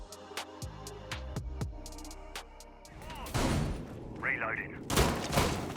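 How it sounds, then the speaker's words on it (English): Shotguns fire in a competitive Rainbow Six Siege-style match between Oxygen and M80, first a string of sharp separate blasts, then denser, louder bursts of gunfire and impacts. "the sounds of the shotguns should give it away"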